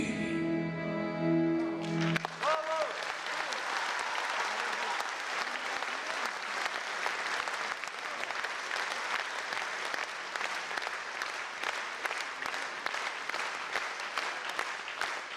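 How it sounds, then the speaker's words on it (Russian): At a jubilee celebration in Maikop, a brief burst of music gives way to long, steady audience applause, a continuous clatter of many hands that stays even and fairly near for over ten seconds. "Все аплодисменты тебе."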